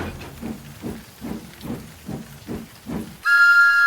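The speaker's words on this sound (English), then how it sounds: "Then he heard a whistle." Rhythmic chuffing of a steam train, then a sharp, loud whistle blast bursts in at the end.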